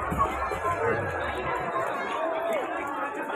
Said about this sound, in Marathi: आतमध्ये आता गर्दी वाढत चाललेली आहे